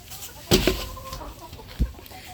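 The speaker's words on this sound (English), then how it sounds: "look at them already in here pecking on the leaves and clippings that I just put in here." Chickens in a winterized coop with an indoor run, pecking at leaves and clippings: a couple of close, loud clucks and squawks, with short soft murmurs between them.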